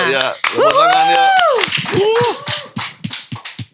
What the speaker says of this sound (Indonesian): Ayo ya, tepuk tangan ya.